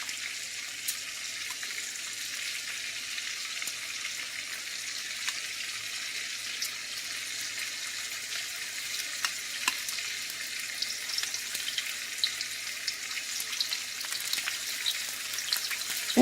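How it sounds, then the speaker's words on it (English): Battered onion rings deep fry in oil, giving a steady, close, bubbling hiss that holds throughout, with small crackles and pops scattered across it. "So I'm just going to mix them up in this batter a little bit. And then we're going to drop them."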